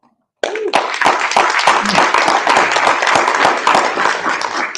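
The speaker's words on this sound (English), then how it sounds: "You may want to hold your applause until I get to this next." Audience at a Chatham County small business event breaks into steady applause after a brief silence, dense continuous clapping held loud for several seconds.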